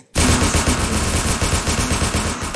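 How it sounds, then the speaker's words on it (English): Continuous rapid automatic gunfire bursts out and fills the whole stretch, loud and dense with no gaps, during a stealth mission in the Roblox game Entry Point; no one talks over it. "don't mind the gunshots"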